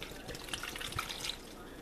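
Water poured into a crockpot holding a turkey breast, a steady soft splashing stream that runs the whole time at low volume with no talking.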